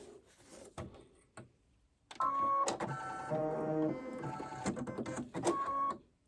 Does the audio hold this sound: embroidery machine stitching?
yes